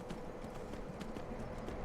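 Horse hooves clip-clop in a steady, even rhythm in the video game Skyrim, with each footfall close and distinct over a constant bed of game ambience, and no talking.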